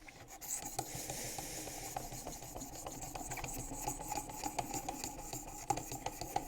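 Knife blade sharpened on a WorkSharp Precision Adjust, aiming for a mirror edge: a steady, continuous close rasping and rubbing of steel across an abrasive, with small irregular scrapes and no talking.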